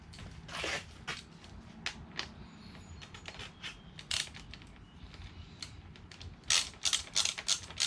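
A ratchet wrench tightens bolts on a Peak Racing Stealth breather box, sounding as quick bursts of clicking, scraping and metallic handling close up, with short pauses between runs.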